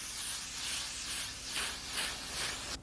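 Rhythmic bursts of fine spray mist from a L'Oreal 3-Second Setting Mist makeup spray, five or six pulsing hisses in steady succession, close by and fairly loud, with no talking.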